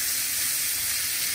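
Ground beef browning in olive oil with garlic in a pan gives a steady, close, even sizzle and hiss that keeps going without a break and with no voices over it.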